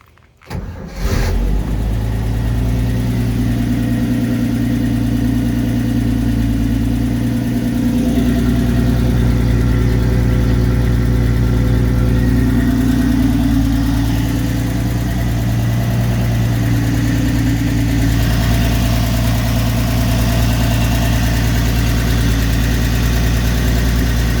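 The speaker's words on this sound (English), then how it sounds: "I'll fire it up one more time just to give you an idea of how well this thing starts up." A 1972 Toyota FJ40 engine cranks briefly and catches, then settles into a steady, close idle with a low throbbing rumble for over twenty seconds, with no talking.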